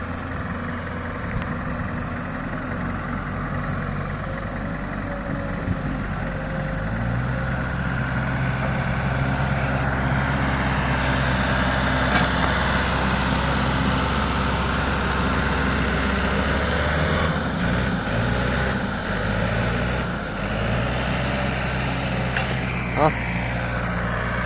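A heavy farm tractor engine chugs at idle nearby, its low rumble shifting in pitch partway through, with some talking and outdoor noise over it.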